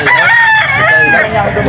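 A young gamecock, a stag, crows once, loud and close, in a single drawn-out call lasting under two seconds.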